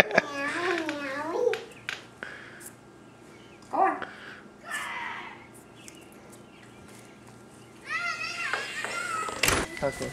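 A voice imitates a cat, giving drawn-out, wavering meows close by at the start and again near the end, with other childish vocal sounds and a little chatter in between.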